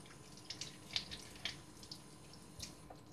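A kitchen tap runs faintly while hands are washed, a soft splashing stream with a few small drips and clinks, no voices.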